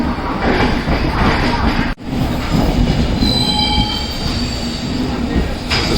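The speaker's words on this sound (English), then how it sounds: "So our train has started right time." Inside an Indian Railway passenger train leaving Lokmanya Tilak Terminus, a heavy rolling rumble fills the coach, a sharp jolt breaks it briefly, and high squeals from the wheels ring out as it moves, with voices faintly underneath.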